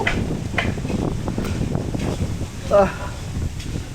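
Gusty wind buffets the microphone with rumbling, uneven blasts on a farm, and a voice speaks briefly under the noise.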